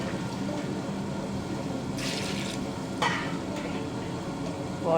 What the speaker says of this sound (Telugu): ఇందులో వాటర్ వేసుకొని